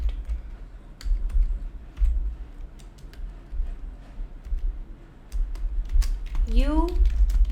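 Keys on a computer keyboard clack in scattered taps and short bursts during Python coding, close and moderately loud, with a voice speaking briefly near the end.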